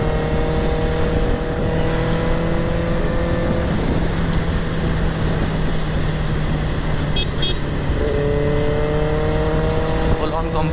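Steady engine drone and rushing wind from a superbike ridden on a highway, continuous and loud throughout with a sustained tonal hum, while someone talks over it.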